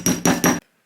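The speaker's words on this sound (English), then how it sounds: "And I just need to hammer it on." Three quick, sharp hammer strikes hitting a metal gripper stud on a copper costume piece, evenly spaced, close up, ending in silence.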